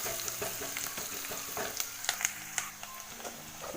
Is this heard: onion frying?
yes